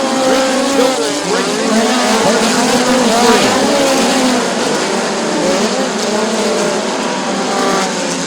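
Midget race cars roar around a dirt oval at Bubba Raceway Park in a POWRi National Midget League race, loud overlapping engines sweeping and revving close by with rising and falling pitch as cars pass, under a faint announcer voice.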